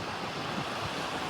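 Strong wind gusting at Natural Bridge on the Aruba coast, a dense, steady rushing roar that buffets the microphone, mixed with surf from a deep sea.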